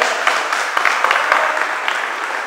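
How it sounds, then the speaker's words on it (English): Audience applause during a motivational speech, a broad continuous wash of many hands clapping in a hall, steady and loud for the whole stretch with no voices over it. "You go ahead and clap, man."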